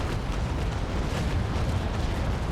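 Naval Action gameplay with an Ingermanland warship exchanging cannon fire, a dense, continuous roar of heavy booms and rumble without any pause, loud and sustained.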